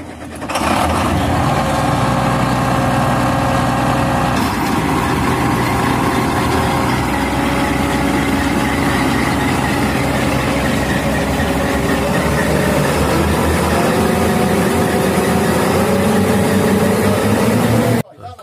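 A John Deere combine harvester's engine runs loud and steady during chopper and drum balancing, with a start-up near the beginning and a sustained heavy drone, occasional voices under it.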